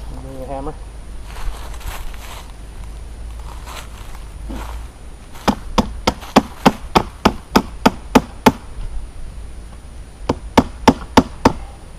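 A hammer drives a stake beside a newly planted plum tree fitted with a protective tree tube: sharp, evenly spaced blows in two quick bursts, about a dozen then four more, close and loud over quiet outdoor background.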